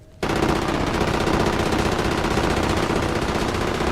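Rapid automatic gunfire from Halo 5 erupts after a brief quiet moment, a loud, unbroken stream of closely spaced shots that keeps going to the end.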